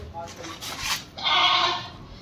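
Malwi goats on a goat farm bleat close by, with shorter calls building to one loud, drawn-out bleat over farmyard background noise.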